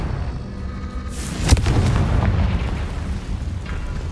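Confringo fire spell exploding in the Hogwarts Legacy video game, a sharp sudden blast followed by a rumbling boom that fades over a couple of seconds, set against steady game ambience.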